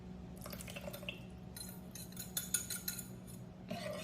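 Buttermilk is poured into peanut butter cake batter in a quiet kitchen, with soft liquid drips and light clinks of glass and metal utensils.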